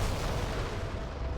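Explosions in the DCS flight simulator, a dense, heavy rumbling boom that holds steadily loud across a short moment, with no talk.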